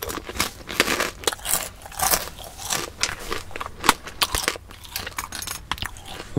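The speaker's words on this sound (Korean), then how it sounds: "맛있어요 팝콘." Crunchy caramel popcorn being bitten and chewed up close, with a steady run of crisp crackling crunches and snaps that stays loud and continuous throughout.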